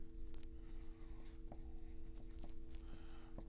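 A marker scratches and taps on a board in irregular short strokes, faint and close, with a steady electrical hum underneath.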